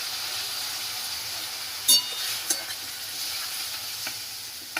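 Water mixed with salt, chili powder, turmeric and cumin is poured into a pan of frying pointed gourd and potato, a steady close sizzle with a sharp splash and a few stirring clicks.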